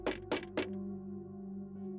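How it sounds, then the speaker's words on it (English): Three firm, hollow knocks land on a front door in quick succession, followed by a low, sustained eerie drone. "we heard a knock on the door."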